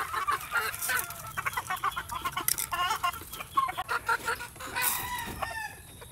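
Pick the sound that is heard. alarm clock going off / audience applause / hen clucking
hen clucking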